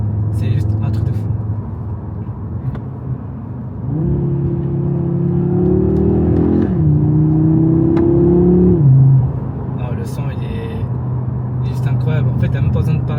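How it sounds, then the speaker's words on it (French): An Audi RS3 with a five-cylinder engine and a tuned, boosted setup revs at close range: a steady idle rises into a sustained higher-pitched rev for several seconds, then drops back to a burbling idle. "Et ce son de 5 cylindres, il est juste trop envoûtant."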